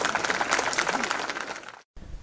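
Audience applause at a school event, a dense burst of clapping from a crowd that fades out after about two seconds, followed by brief quiet and a low murmur.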